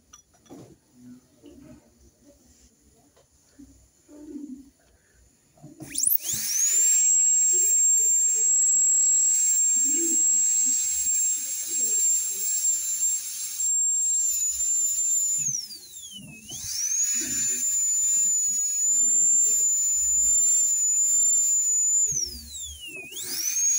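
High-pitched dental drill whining steadily while polishing teeth prepared for veneers, starting after a quiet stretch and running almost continuously with a brief dip in pitch midway, close and loud.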